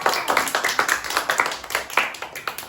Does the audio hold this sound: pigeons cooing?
no